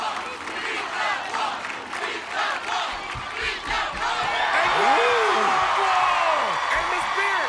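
A crowd at an American Ninja Warrior course cheers and whoops loudly for a contestant heading to the warp wall, with a steady dense roar throughout and shouting voices mixed in.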